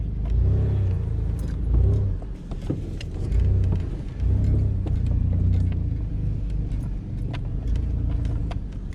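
A pickup truck rumbles and bounces around a cow pasture, its engine surging and easing in uneven waves, with rattles and knocks from the cab, and no talk.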